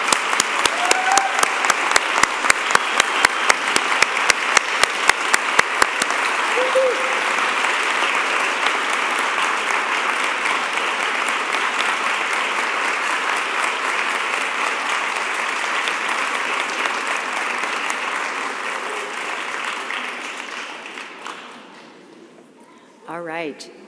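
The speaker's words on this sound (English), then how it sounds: "can you please stand up and turn and applaud the friends, families who have shared this challenge with you" A commencement audience for an Oregon Executive MBA class of 2023 claps at length: rhythmic clapping at first, then a broad steady roar of applause that gradually thins and fades near the end, with a brief voice at the close.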